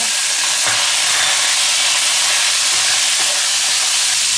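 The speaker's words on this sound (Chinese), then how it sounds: "只要排骨放进去煎了" Pork ribs frying in hot oil in a pan seasoned with Sichuan peppercorns, giving a steady, dense sizzling hiss throughout with a couple of faint clinks.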